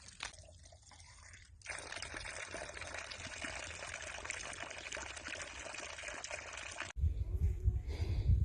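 Water runs from a rusty old pipe at an Appalachian Trail water source with a steady splashing flow. It cuts off briefly, resumes, and gives way to louder low rumbling near the end.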